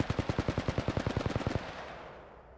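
The Flatline assault rifle in Apex Legends fires one rapid automatic burst of about fifteen loud, evenly spaced shots, then stops and leaves a fading tail.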